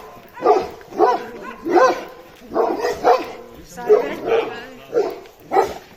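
A dog barks in the mountains near Genoa in a steady series of about ten sharp, loud barks, evenly spaced and close by.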